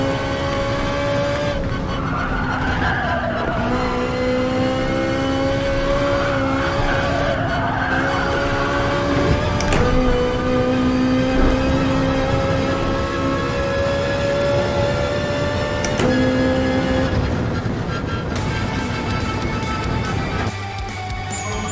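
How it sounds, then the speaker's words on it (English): A Ferrari V8 in Gran Turismo Sport screams through revving gears, pitch rising and dropping across shifts, with repeated tire squeal and skidding over a long continuous run. "in the Ferrari for the first time. Cool! Nice sounds! Screaming V8!"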